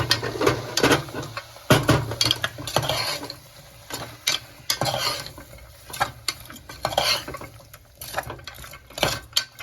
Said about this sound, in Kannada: ಸ್ವಲ್ಪ ಕಲ್ಲುಪ್ಪು ತಿನ್ನ ಹಾಕಿ ಫ್ರೈ ಮಾಡಬೇಕು